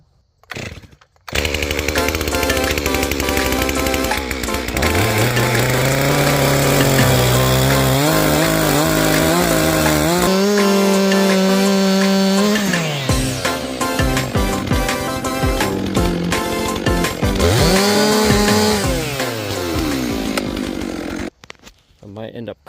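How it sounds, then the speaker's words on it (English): A chainsaw cuts a log in half for firewood, revving loudly and close for about twenty seconds, its pitch dropping and rising as the chain bites into the wood, then stopping. "So let's get this thing cut in half."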